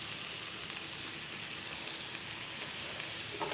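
Butter sizzles and froths in a hot pan with searing fondant potatoes, a dense, steady crackling hiss that stays loud and even throughout with no talking.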